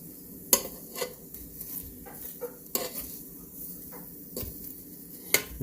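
Chicken wings are flipped in a metal air fryer basket, with scattered clinks and scraping taps of tongs against the basket and soft rustling in between. The taps come at an irregular pace and no one speaks.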